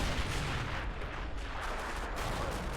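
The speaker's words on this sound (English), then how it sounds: "We're still firing this gun as quickly as possible. The big boy, the 21 centimeter." Heavy 21 cm gun fires in a World War II battle in the video game Men of War, a dense, rumbling barrage of booming blasts and distant explosions that rolls on without pause, fairly quiet overall.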